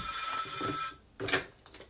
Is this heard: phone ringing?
yes